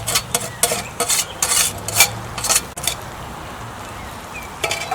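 A spoon scrapes and clinks against a pan while curry is stirred with solidified coconut oil. The sharp irregular strokes come close up over a faint sizzle, then fade to a quieter hiss.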